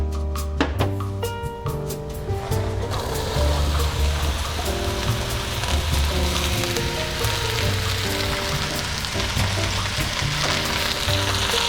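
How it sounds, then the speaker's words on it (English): Mushrooms sauté in oil in a hot pan, a steady hiss and crackle of sizzling beneath a loud sustained musical bed that sounds throughout. "the first thing we wanna do is saute our mushrooms"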